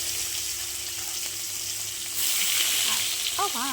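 Black cumin and chopped onion sizzle loudly in hot mustard oil, a steady dense hiss that swells louder partway through as the onion goes in, with a faint stir near the end.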